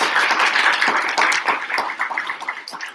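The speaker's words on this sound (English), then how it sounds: "Let's give a big round of applause" Audience applause at an IIM Sirmaur industry advisory board panel discussion: a dense burst of many hands clapping together, strongest at first and thinning out toward the end.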